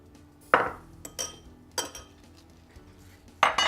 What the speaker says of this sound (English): Next, I think I'm going to cut up some Swiss chard